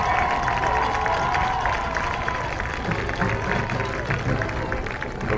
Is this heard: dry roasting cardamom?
no